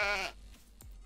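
A single short sheep bleat rings out clearly in a video game as an archer shoots the animal, followed by a few soft thuds and a sharp knock at the end.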